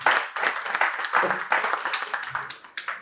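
A French-speaking audience at a spring celebration event applauds: uneven, lively clapping in bursts that swell and dip, with some louder individual claps near the front.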